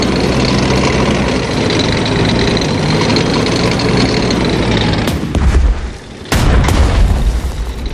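A tank cannon in the PC strategy game Strategic Mind: Spectre of Communism fires two heavy booming shots about a second apart over a constant loud engine rumble.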